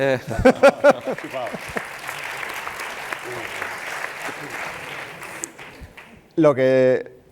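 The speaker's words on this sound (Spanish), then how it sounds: "Tenía que dar un aplauso." Audience applause breaks out at a Spanish-language seminar on simplified pension plans, a dense, steady clapping that holds for several seconds between stretches of a man's speech at the start and end.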